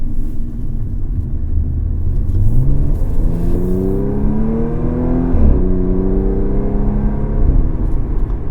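A supercharged 2015 Audi S4 accelerates hard, its engine note climbing steadily in pitch through a gear, briefly dipping at a shift and then rising again, loud and close from inside the car with no talk.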